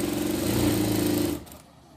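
A sewing machine runs fast and steadily, gathering fabric into a seam for a small dog dress, then stops abruptly near the end.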